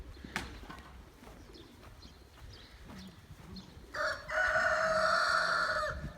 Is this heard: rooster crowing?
yes